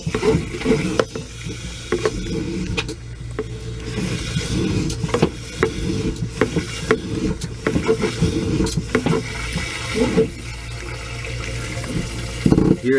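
Water from a garden hose surging and gurgling through a plugged RV toilet, a steady rushing churn with occasional clunks and pops, loud and close throughout.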